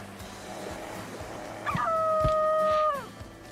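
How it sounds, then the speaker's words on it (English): A cartoonish dog bark or howl from a video game, one sustained tonal yelp lasting about a second after a short lead-in, loud and close over faint background game sounds, no talking. "If you hold down X longer, your bark will be louder."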